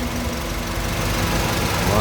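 A 2010 Honda CR-V with a 2.0-litre engine idling, a steady low mechanical hum with faint vibration heard up close and evenly over two seconds.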